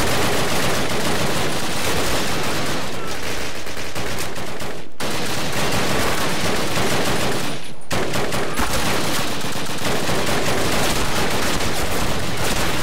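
Rapid Call of Duty gunfire on PC during a London Bridge mission: dense, loud bursts of automatic fire run almost continuously, broken by two brief pauses.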